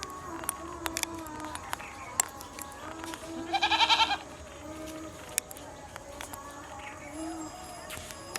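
Goat bleating in a short burst of several quavering, rising calls mid-clip, fairly close, over a noisy outdoor background with faint activity.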